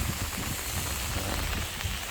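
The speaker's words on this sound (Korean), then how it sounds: "오늘 뭐 좀 비가 오는데" Light rain in Seogwipo city on Jeju, a steady even hiss of drops on surfaces, loud and continuous with no voices.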